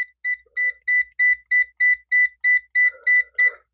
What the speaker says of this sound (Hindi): बजर डायोड का मोड यहाँ पर एक ही है। अब देखिए कितनी फास्ट यहाँ पर रिस्पॉन्स ये दे रहा है।